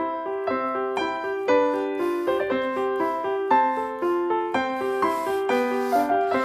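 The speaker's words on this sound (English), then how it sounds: "what a 7-year-old child sounds like when he plays the piano" Simple piano melody played alone by a 7-year-old child, notes struck at a steady, careful pace with moderate volume, no talking.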